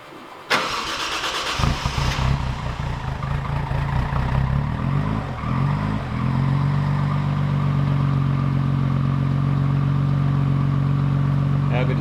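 A Toyota Hilux fitted with a 1JZ engine cranks briefly, catches and settles into a steady, even idle that runs close and loud for the rest of the clip, sounding much like a four-cylinder.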